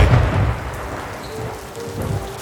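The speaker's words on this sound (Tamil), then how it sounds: "அந்த இரவு நகரம் முழுவதும் பலத்த புயல் மழை பெய்து கொண்டிருந்தது" Heavy storm rain pours down over a city at night, with a low rumble of thunder rolling underneath the dense hiss of falling water, loud and continuous.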